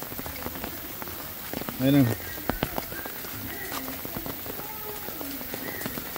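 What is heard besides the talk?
heavy rain falling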